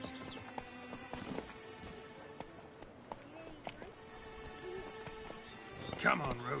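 Hooves of the horse Roach from the game The Witcher 3: Wild Hunt clopping at a steady trot, fairly faint under background music and a voice, with a louder stir near the end.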